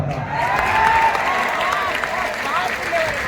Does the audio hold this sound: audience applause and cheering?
yes